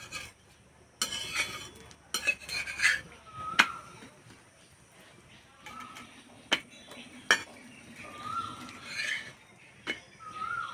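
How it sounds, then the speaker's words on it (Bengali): An egg paratha being flipped and roasted on a hot iron tawa: scattered metallic clinks and scrapes of a spatula against the pan, some sharp and close, separated by quieter stretches of low background noise. "এবার পরোটা দিয়ে দেব। প্রথমে এই পিঠ ওপিঠ ভালো করে সেঁকে নেব।"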